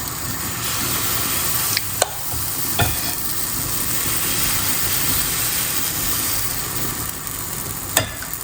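Wheat pancake batter spread on a medium-hot griddle gives a steady, soft sizzle throughout, with a few brief clicks of a utensil against the pan and no voices.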